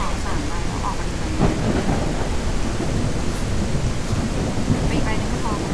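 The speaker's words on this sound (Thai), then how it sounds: "นี่คือฝนตก" Rain falls steadily in a survival video game, making a dense, continuous hiss throughout with low rumbling thunder beneath it. A voice is faintly present at times.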